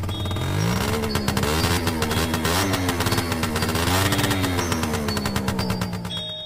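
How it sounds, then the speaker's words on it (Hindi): A cartoon scooter engine buzzes and revs up with a rapid, sputtering putter whose pitch rises and holds, loud and close for several seconds before easing off at the end. "बुल्ली स्कूटर को थोड़ा और तेज कर देता है।"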